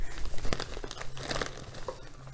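Plastic bags are crinkled and handled in a bathroom, giving a dense, continuous rustle with sharper crackles and crunches throughout, close up and fairly loud.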